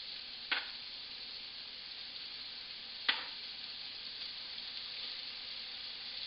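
Large meatballs fry in a cast iron skillet, a steady close sizzle throughout, broken by two sharp clicks or taps of a utensil against the pan.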